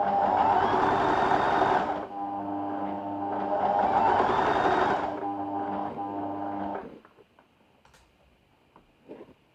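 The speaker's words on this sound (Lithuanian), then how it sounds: "siuvam 1 cm pločio siūle visą juosmenį aplinkui" A sewing machine stitching a waistband onto a skirt, running in two steady mechanical bursts, close and fairly loud, then stopping into quiet with a few small clicks and handling sounds.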